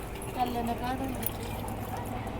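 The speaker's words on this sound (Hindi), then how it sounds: "मैं टूटी में से देखिए पानी आ रहा है" Tap water runs in a steady, fairly faint stream inside a home, mixed with people talking over it throughout.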